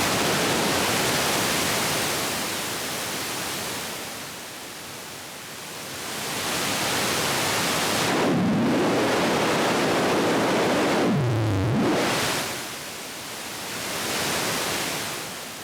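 A no-input mixing board with its internal noise amplified gives a loud, steady rush like broadband surf that swells and fades and is cut by two sweeping filtered dips, continuous with no voices.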